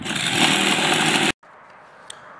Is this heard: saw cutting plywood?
yes